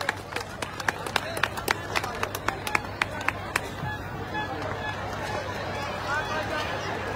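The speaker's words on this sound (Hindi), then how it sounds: "कृपया जोरदार तालियों से हमारे मेहमानों का स्वागत करें" Applause from the crowd at a village Sohrai gathering, scattered claps near and far rising over steady babble and a low hum, loudest early and then settling into general crowd noise.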